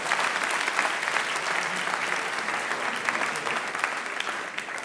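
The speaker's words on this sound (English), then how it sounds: "Give them a round of applause." A TEDxOxford audience claps for volunteers after a mental math demonstration, a full, lively round of applause with crisp individual claps that stays strong throughout.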